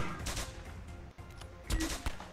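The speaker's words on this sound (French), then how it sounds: "Et les échanges de coups de feu là." Gunfire exchange in the VR shooter Silicon Rising: a run of sharp shots, with two louder bursts near the end, over steady game background noise.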